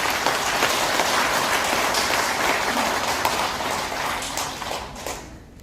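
Audience applause welcoming a retired general to the podium at a Korean War anniversary political gathering, steady dense clapping throughout that fades near the end.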